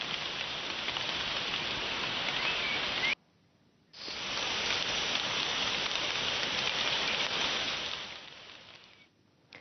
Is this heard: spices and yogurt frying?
no